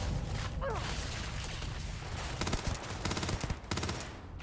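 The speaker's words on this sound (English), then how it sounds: "Man, they are shooting from everywhere." Pirate gunfire in the Starfield video game, with dense automatic bursts and rapid single shots layered over steady game background noise, growing busier toward the end.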